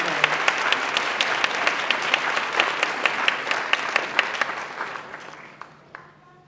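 An audience claps for students at a 2013 school recognition ceremony, dense steady applause from a crowd nearby that thins and fades away toward the end.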